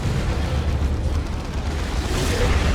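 A Predator tank in Dawn of War 2 is destroyed amid a dense, sustained roar of explosions and battle noise, loud and continuous with no pauses.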